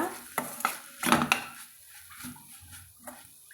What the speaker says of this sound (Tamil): இப்போ தேங்காய் துருவல் வந்து நம்ம தேவையான அளவு சேர்த்திக்கலாங்க சேர்த்தி நம்ம கலந்து விட்டுக்கலாங்க